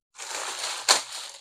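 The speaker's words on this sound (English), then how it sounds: "Let me get the plastic bag away from the cat." A plastic bag crinkling up close indoors, a steady rustle lasting about a second with one sharper crackle partway through, heard alone.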